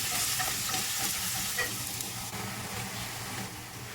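Thinly sliced ginger sizzles steadily in a hot pan as it is sautéed, a dense continuous frying hiss with light stirring scrapes throughout.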